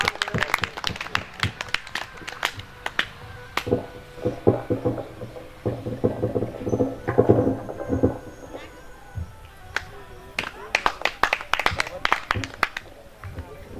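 Audience at a Shrimad Bhagavat katha clapping in welcome, scattered bursts of claps that thin out in the middle, then swell again, set against music and a voice.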